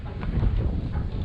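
Wind buffets a microphone on a ship's deck while the crew rigs a pilot ladder, making a steady low rumble with gusty swells that runs the whole time, close and fairly loud.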